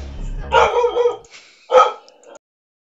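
A dog barks at a tape measure indoors: a few sharp, close barks in two short bursts, the first a quick double bark, the second a single yap, then silence.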